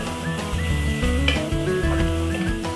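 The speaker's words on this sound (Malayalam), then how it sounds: "നമ്മൾ ഈ മസാലയുടെ പച്ചമണം മാറാൻ വേണ്ടിയിട്ട് ഒന്ന് നന്നായിട്ട് വഴറ്റി കൊടുക്കുക." Masala for a fish curry sautéing in a pan on low heat, a loud close sizzle layered with stirring scrapes, with musical tones sounding throughout.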